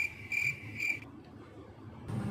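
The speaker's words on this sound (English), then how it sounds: "Crickets." Crickets chirp in short pulsing bursts, with a quiet pause in between before the night insects resume.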